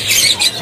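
A kerucuk songbird from East Java gives a brief, bright chirping call at a busy bird market, heard as a short high squawk up close.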